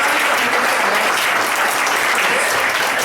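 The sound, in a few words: applause from audience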